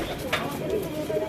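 Pigeons, some black and some white, coo in a few soft, low murmurs at close range over a steady ambient background.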